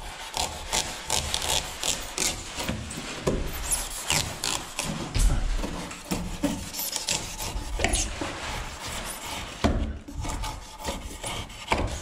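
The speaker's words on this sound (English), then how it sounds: "I think there's a couple of spots of insulation I need to trim up" A utility knife trims insulation in a workshop, giving close, scratchy rasping and rubbing strokes in an uneven rhythm with brief pauses and no talk.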